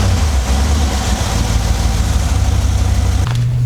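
A swapped 6.2L V8 in a GMC Sierra 1500 idles steadily right after an exhaust manifold gasket repair, a loud, low rumble close by that shifts pitch slightly near the end, with no talking.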